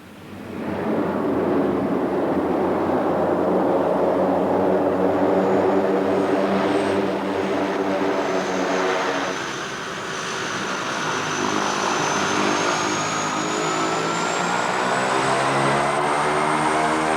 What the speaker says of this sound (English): Gurme had never before seen an airplane.